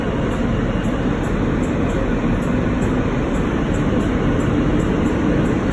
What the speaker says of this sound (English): Friday night, I was in the train. I recorded the video with the phone